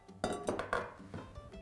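Peeled potatoes are dropped into a pot in a home kitchen, a short run of faint knocks and clinks against the metal.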